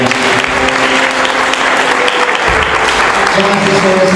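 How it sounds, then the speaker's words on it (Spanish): A church congregation breaks into loud, sustained applause, a dense wash of clapping filling the room for several seconds, with voices mixed faintly underneath. "Le damos un fuerte aplauso al Señor."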